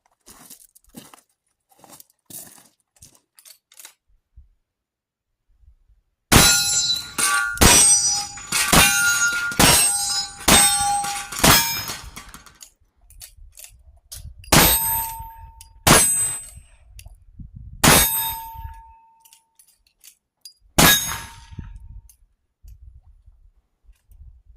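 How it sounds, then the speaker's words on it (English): A lever-action rifle loaded with black powder fires repeatedly at steel targets outdoors, sharp loud reports with ringing metallic clangs, first a rapid string of about six shots, then slower single shots spaced a second or more apart. "So I'm going to shoot for a little bit here."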